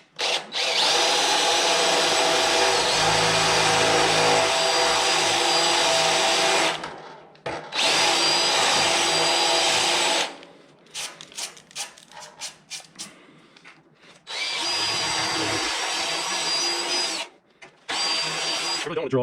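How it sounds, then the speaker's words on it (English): Loud electric drill whining in long bursts, drilling out spot welds on a Cobra Jet's rocker panel, stopping and starting with short pauses and clatter between runs, close by. "I really don't want to drill all the way through the rocker panel."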